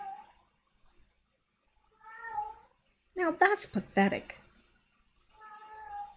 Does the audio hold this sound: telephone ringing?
no